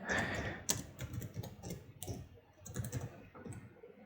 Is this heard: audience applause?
no